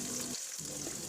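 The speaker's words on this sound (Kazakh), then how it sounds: "Жуамызды майдалап турап алып, қызып тұрған майға қуырып алатын боламыз." Chopped onion sizzling and frying in hot oil in a pan, a steady dense crackle with a brief dip partway through, close and alone without talk.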